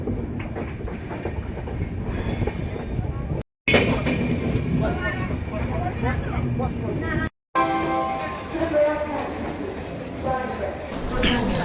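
A passenger train crossing a bridge into Varanasi, with continuous rumbling and rhythmic clickety-clack of wheels heard from on board, briefly interrupted, with faint squeals and voices in the background.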